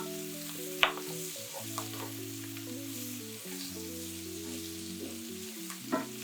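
Brussels sprouts fry in bacon grease with a quiet, steady sizzling hiss under background music, with a couple of brief clinks from the pan.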